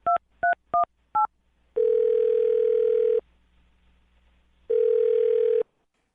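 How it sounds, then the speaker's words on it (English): Four quick touch-tone keypad beeps as a phone number is dialed, followed by two long steady ringing tones with a pause between, clear and alone. "I'm dialing the phone number."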